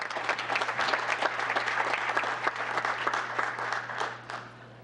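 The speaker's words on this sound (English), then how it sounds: "With that, a round of applause and congratulations to Silverhawk HOA." Audience applause at a town council meeting, a steady patter of many hands clapping that fades toward the end, moderately distant.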